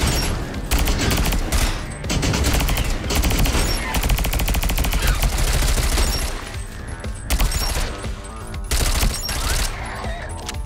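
Rapid gunfire from turrets in the video game Sentry rattles in dense, loud continuous bursts with short pauses, heavy and close throughout, with no speech.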